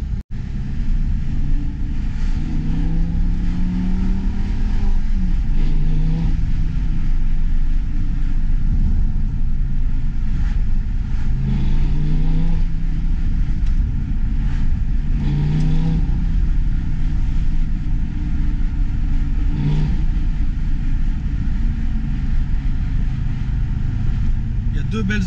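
Lamborghini Gallardo Superleggera on the road, a loud steady engine drone from inside the car with several rising rev sweeps as it accelerates and shifts, someone talking over it at times.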